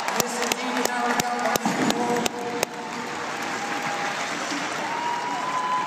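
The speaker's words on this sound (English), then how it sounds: "Round of applause for competitors having to leave." A crowd applauds competitors at a military field gun run tournament, dense steady clapping with a few sharper claps early on, while an announcer speaks over it.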